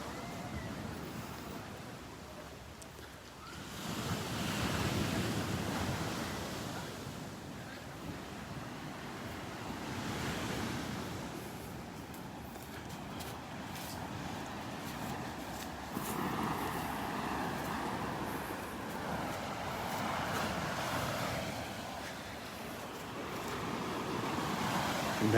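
Ocean surf rolls onto the beach at Delnor-Wiggins with wind buffeting the microphone, broad swells of washing noise rising and falling over a steady windy roar, no speech.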